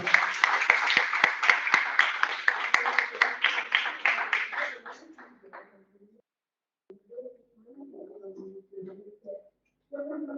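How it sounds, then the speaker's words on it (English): An audience at an MBA orientation program applauds with dense, loud clapping that fades out over about five seconds, followed by a voice starting to speak. "Please give her a big round of applause."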